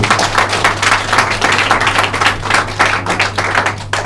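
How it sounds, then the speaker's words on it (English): Wedding guests at a solemnization ceremony applaud the fathers of the bride and groom with dense, continuous clapping, loud and close, sustained for several seconds. "来一点掌声给两位重要人物"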